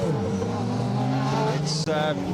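A loud rally car engine roars close by during a stage of the Rali Menai Stages 2023, pitch dropping as it passes, followed by a brief squeal near the end.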